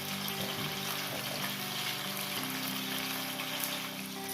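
Pork meatballs seasoned with salt and pepper browning in a pan, giving a steady soft sizzle and crackle that runs evenly throughout at close range, with low background hum and no talk.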